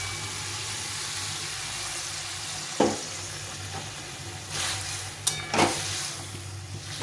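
A low simmering sizzle in a pan of bottle gourd greens breaks into several sharp hissing bursts as boiled lentils are added, with stirring between them.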